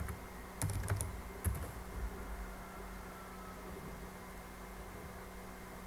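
Short bursts of keys clicking on a computer keyboard as a brief chat message is typed, a few quick taps up close, then quiet room hum.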